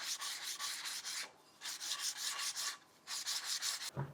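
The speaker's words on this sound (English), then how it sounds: "just sand the entire thing as well as the edges with some 120 and then up to some 220 grit sandpaper" A wooden round table top is sanded by hand with 120 and then 220 grit sandpaper, giving three long bursts of steady rasping friction separated by short pauses, close and fairly loud.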